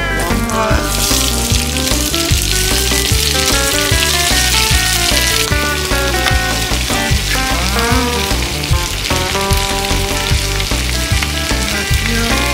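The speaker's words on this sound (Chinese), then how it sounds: "加入蒜， 炒香后加入黄瓜，" Garlic and then cucumber stir-frying in a wok give a steady, loud sizzle with clinks from stirring, under continuous background music.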